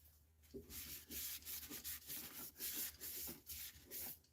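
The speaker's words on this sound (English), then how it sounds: "Sand it back." Sandpaper rubs steadily against a spinning torrified maple piece on a lathe, a close, continuous rasping hiss rising and falling in repeated strokes with no talk over it.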